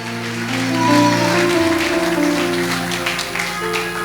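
A church congregation applauds during a sermon, a sustained wash of clapping that swells over sustained musical tones, fairly loud and continuous.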